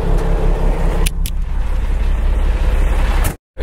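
A dump truck engine labours in low gear on a gravel delivery run, a loud, steady close rumble with a couple of short knocks, cutting off abruptly near the end.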